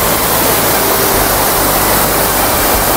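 The Sana Ghagra waterfall roars in a loud, dense, unbroken rush of falling water, close by and steady throughout with no other sounds standing out.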